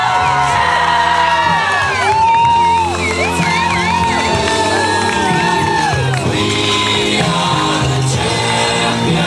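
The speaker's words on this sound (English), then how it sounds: "Cheer them on as they come through the finish line." Crowd cheering, whooping and shouting at the finish line of a 5k running race, loud and continuous, with children's shouts mixed into the excited cheers.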